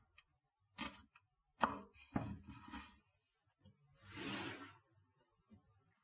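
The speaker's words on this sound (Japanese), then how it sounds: "人参と玉ねぎとピーマン、こちらを細切り薄切りにして甘酢ダレに漬けておきます。" Knife cutting carrot, onion and green pepper on a board: a few sharp close taps in quick succession, then a softer rushing swipe after a pause, quiet overall with no talking.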